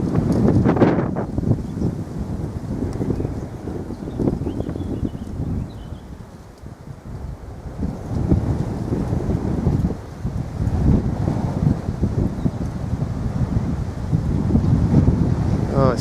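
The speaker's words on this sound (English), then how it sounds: "A little bit windy, but not bad." Wind gusts buffet the microphone at a cliff edge above Ebbor Gorge in the East Mendips, a low rumbling roar that swells and dips over sixteen seconds, with brief speech early on.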